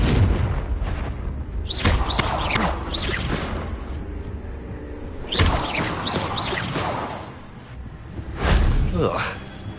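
Confringo blasting spell explosions in the video game Hogwarts Legacy on PS5, three heavy booms with swishing tails spaced a few seconds apart, each loud and close, with a voice speaking between them.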